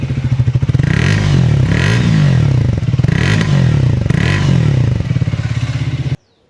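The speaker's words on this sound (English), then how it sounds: "Triumph has made sure that all of these bikes sound very different from each other." A Triumph 350cc motorcycle engine runs close by with a steady, throbbing exhaust note, rising and falling through a few gentle revs before cutting off abruptly near the end.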